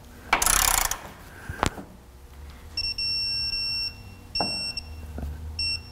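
Torque wrench on a Honda Pilot at 200k miles, snugging a nut on an already-welded part. A broad burst of noise and a sharp click come first, then several steady tones with short breaks, close and fairly loud, with no talking.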